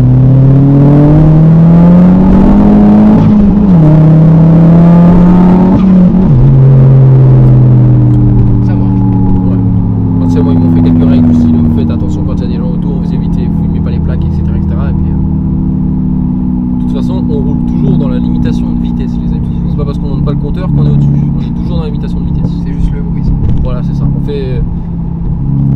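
A Volkswagen Golf 5 GTI with very high mileage accelerates from inside the cabin, engine note rising through gears with a shift, then settling into a steady loud drone while someone talks over it.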